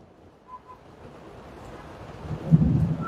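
Rain falls steadily with low thunder rumbling from afar, growing louder and rolling toward the end during stormy weather in Rajouri.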